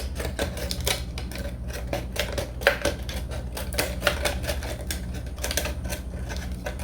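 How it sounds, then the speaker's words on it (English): Scissors snip spirals into a plastic water bottle, a rapid series of sharp close clicks and crinkles with a steady low background hum and no talking. "So I'm gonna start cutting spirals."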